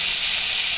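Beef short ribs searing in a hot pan give a loud, dense, continuous hiss that holds steady close up for under a second, with no talking.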